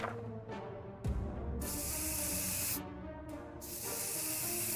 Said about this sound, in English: We decided to spray the hell out of the vent, just to be on the safe side